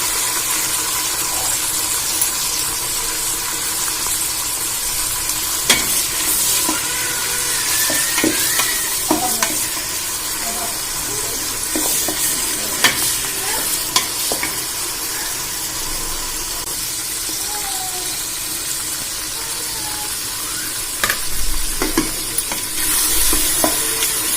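Tomatoes frying and being stirred in a pan for Nellai-style mutton dum biryani, a steady sizzle with scraping spoon strokes throughout, close and fairly loud, no talking.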